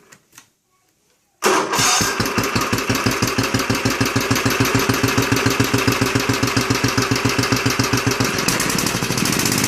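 A hot-wired small engine catches after a couple of faint clicks, then runs loudly and close in a steady rapid chugging rhythm that continues to the end.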